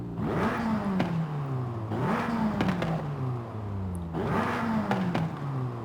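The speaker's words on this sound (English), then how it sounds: "What's this exhaust sound like?" Volkswagen Golf R with an upgraded exhaust in Forza Horizon 5, revved hard three times in succession, each rev climbing sharply then falling back as a loud, close engine note with no voices.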